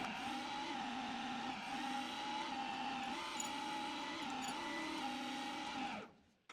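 A metal lathe cuts a taper with a steady whining hum that wavers slightly, then winds down abruptly near the end, followed by a small clunk.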